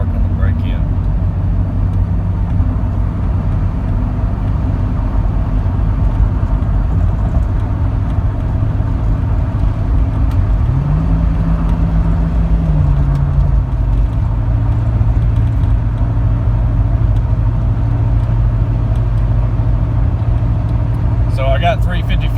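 In-cab drone of a Jeep Cherokee with a Flowmaster Super 10 exhaust, 3.55 gears and oversized BF Goodrich all-terrain tires, on a new engine still in break-in, cruising onto a highway on-ramp: steady low engine and exhaust hum with a brief rise midway.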